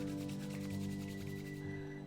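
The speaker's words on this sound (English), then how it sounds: "We're going to rub our hands" Two palms rubbed briskly together during a qigong exercise, a steady close dry friction swish running continuously for about two seconds with no talking.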